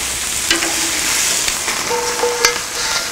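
Pork chops go into a hot Camp Chef cast iron skillet and sizzle in a loud, steady hiss, with a few faint clinks and light handling sounds near the pan and no speech.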